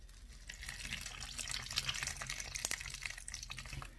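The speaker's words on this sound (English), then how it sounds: "Okay, now let's see what happens when I squeeze it." Faint, continuous trickling and dribbling of water as a sponge is squeezed out, with a few small splashes.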